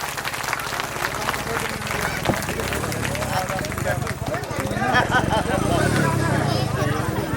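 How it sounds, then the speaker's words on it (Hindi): An audience at a Shrimad Bhagavat Katha religious gathering at Siddhkaleshwar Dham in Jabalpur bursts into applause, which swells in the final seconds over ongoing talk and crowd murmur. "एक बार दादा के लिए और ताली बजा दो।"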